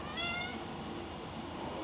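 A pet cat meows close by, one drawn-out meow followed by a quieter brief cry, faint and alone against soft room noise.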